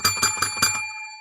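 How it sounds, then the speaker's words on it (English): A bell rings several times in quick succession, bright and metallic with a lingering ring as the strikes trail off, heard alone and close. "Because they got fucking people ringing bells all over."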